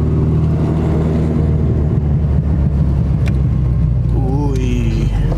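A Honda Civic with a built engine drives along with a steady, close engine drone and road rumble, ending in a short rising rev near the end.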